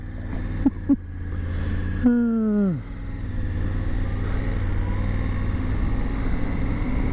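Triumph Tiger Sport 850 motorcycle in third gear pulls away, its engine note sweeping down sharply and then settling into a steady hum with wind rush, preceded by a few brief voice sounds.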